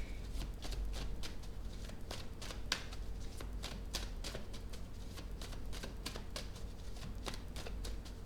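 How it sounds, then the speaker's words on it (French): Playing cards laid out and shuffled on a table in a tarot-style reading, a steady run of crisp flicking and slapping card sounds, close and fairly quiet over faint background hum. "Je vais mettre une carte dessus."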